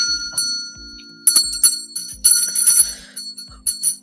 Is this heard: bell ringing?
yes